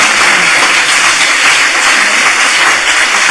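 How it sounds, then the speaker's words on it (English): Audience at a social science panel on colorblindness and the law gives a steady round of applause, dense and even throughout, loud and close with no voices. "Let's give a big round of applause."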